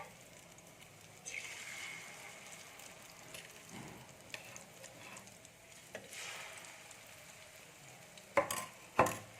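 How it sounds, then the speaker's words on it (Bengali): Spoonfuls of egg batter drop into hot oil to make small fritters, a gentle bubbling fry punctuated by soft spoon scrapes and a couple of sharper clinks against the pan near the end, with no voices. "তেলটা গরম হয়ে গেছে এক চামচ করে আমি দিয়ে দিচ্ছি আমি বড়া বানিয়ে নেবো"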